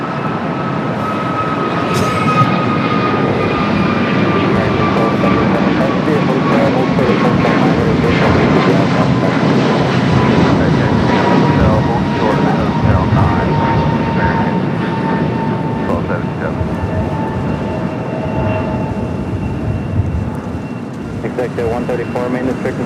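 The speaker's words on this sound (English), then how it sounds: "That was a flight heading to Charlotte, A321 Neo with American." An American Airlines Airbus A321neo jet bound for Charlotte roars past at Los Angeles airport, a loud sustained engine rush with a descending whine that fades slightly near the end, with voices talking over it.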